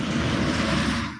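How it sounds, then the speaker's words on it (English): Highway traffic running next to a house, heard from the garden as a loud, steady broadband roar with no breaks. "Sorry about the noise, y'all. Y'all know I live right next to the highway"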